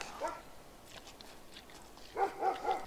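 A dog barks outdoors at a snowy winter campsite in sub-zero cold, a few muffled barks at a moderate distance, one short burst at the start and another pair near the end, with quiet surroundings between.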